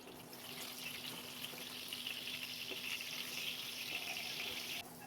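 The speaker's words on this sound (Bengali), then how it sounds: "নুন হলুদ মাখিয়ে নেওয়ার পর এবার ভালো করে ভেজে নিচ্ছি" Large potato pieces coated in salt and turmeric fry in oil in a wok, giving a steady, even sizzle that stays close but quiet and cuts off near the end.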